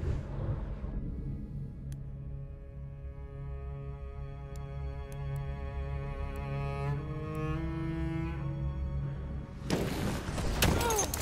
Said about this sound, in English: Throw the grenade, watch it!